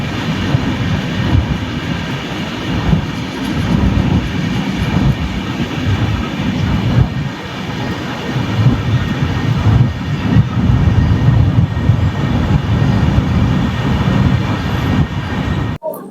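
Bhuj-Shalimar Superfast Express running on a hot evening, heard as a steady, loud rumble and rattle of rail cars that continues unbroken throughout, with no talk.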